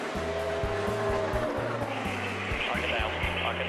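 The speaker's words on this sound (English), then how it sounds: "Contact, and there goes Sawalich" A NASCAR race car makes contact on track: a loud, steady roar of racing engines with pulsing gear tones and rising tire scrub, dense and continuous throughout.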